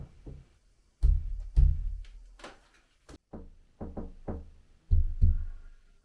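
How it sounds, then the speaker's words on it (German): Knuckles rap on a wall in a room, soundproofing for a dartboard being tested, in sharp clustered knocks of three, each set repeated across the stretch, close and fairly loud with quiet gaps between. "mit den Fingerknöcheln dreimal gegen die Wand klopfen"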